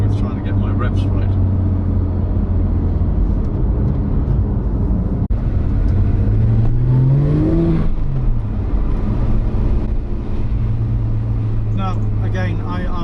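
A Porsche GT3 with a 4.0 engine and manual gearbox drones loudly from inside the cabin, rising in a rev blip partway through before settling back, while someone talks over it throughout.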